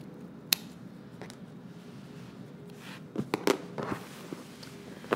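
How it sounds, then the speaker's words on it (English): Scissors snip away the excess zipper on a pair of sewing-pattern suit pants: a single faint click early on, then a quick cluster of sharp snips near the end against a quiet room. "And then I go ahead and trim off the excess zipper."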